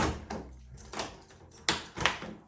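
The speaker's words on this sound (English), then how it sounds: "And door shutting like an absolute dream." A door fitted with a Yale Doormaster Universal closer swings shut smoothly, with soft brushing movement and then two close, crisp latch clicks near the end.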